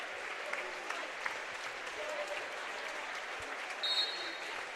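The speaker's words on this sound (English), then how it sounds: "Marion local fans extending the applause as well." Basketball fans in a high school gym applauding after a varsity game, a sustained, fairly even roll of clapping from a crowd at moderate distance, with faint voices mixed in.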